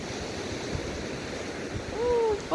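Small sea waves washing on a beach at Prymorsk in the Odesa region, a steady soft wash of surf with a few bird calls near the end.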